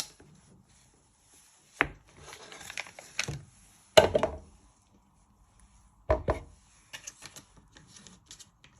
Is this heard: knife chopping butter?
yes